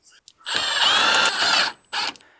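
A power drill driving sheet metal screws into the body of a high-mileage Chevrolet Silverado pickup, heard as two close, loud whirring bursts, one long and one short, with no talk.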